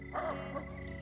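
A man imitates a dog, giving a short, loud bark-like yelp close by, about a second long.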